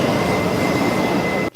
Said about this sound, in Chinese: 火车豆豆啊驶入月台